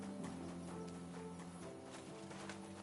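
Horse hooves clip-clopping quickly as the animal runs off in the medieval open-world video game Kingdom Come: Deliverance II, a busy rhythmic patter of hoofbeats over ambient game sound.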